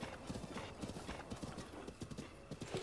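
Horse hooves clip-clop steadily in The Legend of Zelda: Breath of the Wild, a quick, even trotting rhythm heard faintly throughout, with soft game background beneath.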